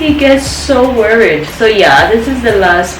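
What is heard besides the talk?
None of the usual background noises is heard.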